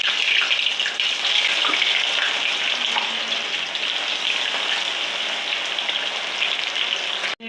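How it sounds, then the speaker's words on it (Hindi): Chicken drumsticks fry in hot oil, giving a steady, bright sizzling hiss with crackles and bubbling that continues at an even level close up, then cuts off abruptly. "बस 1 बाय 1 इनको फ्राई कर लेते हैं।"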